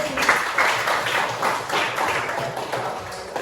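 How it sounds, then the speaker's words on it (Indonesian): A crowd claps together at a classroom group presentation, a dense patter of many hands filling the room at steady strength, with faint voices mixed in. "Silakan tepuk tangan dulu teman-teman."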